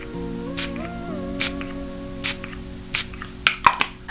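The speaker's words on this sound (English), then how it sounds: "And now I'm going to add some setting spray." Short misty bursts of Ofra makeup setting spray hiss in several separate pumps, fairly faint and close, under soft background music.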